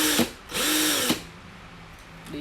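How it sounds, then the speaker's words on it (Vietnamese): A cordless brushed drill made in 2018 runs in short bursts, spinning up and winding down twice with a loud whining motor, then a third brief start at the end, with no talking. "Đây là cái vít có than và cái khoan có than."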